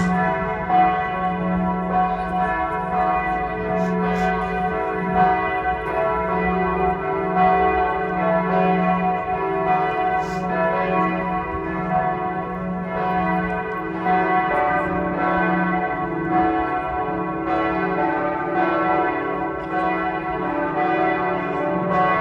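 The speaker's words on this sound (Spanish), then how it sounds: "Quizás no me puedan escuchar bien por el sonido de las campanas" Church bells ring at midday in Bremen, Germany, loud and resonant, with overlapping tolls sustaining a rich ringing tone throughout.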